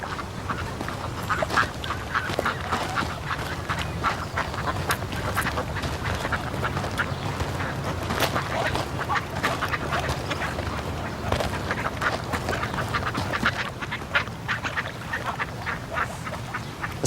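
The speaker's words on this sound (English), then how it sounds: "Quack, quack, quack." Several ducks quack repeatedly, a loud busy chorus of overlapping nasal calls running steadily throughout, close by, with no talking.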